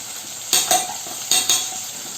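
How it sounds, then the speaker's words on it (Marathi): Chili powder, coriander powder, garam masala and turmeric frying in a pan, a steady soft sizzle broken by a few sharp scraping strokes of a spoon stirring, close and without talk. "मसाले चांगले फ्राय करायचे"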